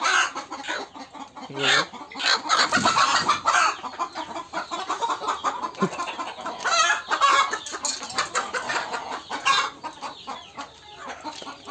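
Hens cluck in a coop where some sit to lay eggs, repeated close, loud clucks and squawks arriving in uneven bursts, with a brief spoken word among them.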